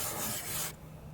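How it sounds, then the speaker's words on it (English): A hand sanding pad scrubs briskly across a painted wooden cabinet with a close, raspy rubbing that stops abruptly partway through. "Your sanding pads will also load up with junk as you're doing it, so make sure you're replacing them."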